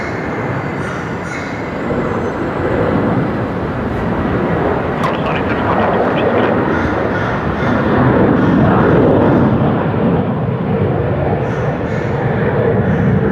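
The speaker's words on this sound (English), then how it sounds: "You can always count on an A330 for some sound." A Qantas Airbus A330 airliner takes off from runway 19 left at Brisbane Airport, producing a loud, sustained roar that swells through the middle and stays heavy to the end.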